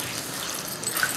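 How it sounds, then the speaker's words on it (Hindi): About two glasses of water poured into a pot of chicken for Kashmiri pulao, a continuous close splashing gush like a running tap, loud and alone without talking. "इसमें 2 गिलास पानी डाल के इसको गलने के लिए रख दें।"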